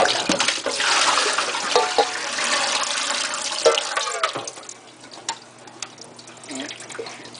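Cold tap water runs steadily into a kitchen sink to rinse starch off food for Vietnamese salad rolls, a continuous splashing rush that quiets toward the end, with some clinks.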